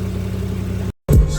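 A car with a ZF automatic transmission idles steadily with a low, even engine drone, cut by a brief total dropout before the running engine returns.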